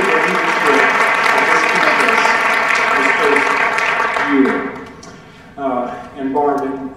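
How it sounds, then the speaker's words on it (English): A large audience at a high school all-parent meeting applauds warmly, with dense, steady clapping for about four seconds that fades as a voice comes in near the end. "I would like to give him another big round of applause."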